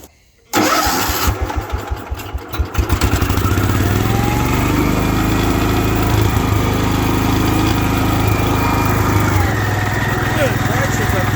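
A 1972 Wheel Horse Raider 12 lawn tractor engine that sat in a shed for fifteen years cranks, catches after a brief silence, and settles into a steady, loud, close running drone.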